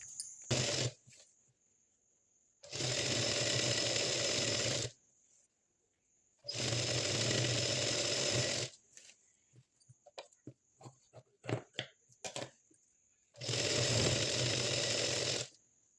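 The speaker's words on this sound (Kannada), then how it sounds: "ಇದನ್ನು ಸಿಂಗಲ್ ಫೋಲ್ಡ್ ಮಾಡಿ ಸ್ಟಿಚ್ ಮಾಡ್ತಾ ಇದ್ದೀನಿ" Sewing machine single-fold stitching a seam on silk saree fabric being made into a lehenga, heard as three separate runs of rapid, loud stitching, each about two seconds, with quiet handling sounds in between.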